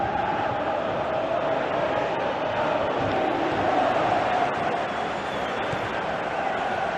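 Football stadium crowd reacting to play during a match: a dense, steady roar of many voices that swells slightly midway and stays loud and continuous throughout.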